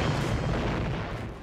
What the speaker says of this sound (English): warships would pound each other to pieces at very close range with a steady barrage of cannon fire